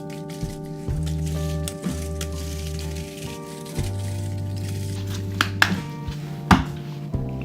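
Bones skateboard bearings are washed in a bearing cleaning unit, with a low motorized churning hum coming in bursts, sloshing liquid, and occasional close clicks and knocks from handling.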